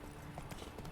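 A horse galloping in The Witcher 3, quiet rhythmic hoofbeats thudding under game ambience.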